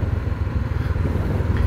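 A motorcycle engine runs steadily nearby, a low, even rumble with a slightly uneven pulsing throb that holds at a constant level throughout without revving.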